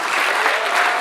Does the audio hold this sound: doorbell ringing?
no